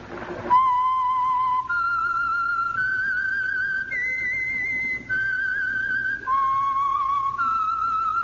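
Whistled theme signal of the Signal Oil radio mystery program The Whistler, a lone eerie melody of sustained pitched notes stepping up and down, clear and close with faint background hiss.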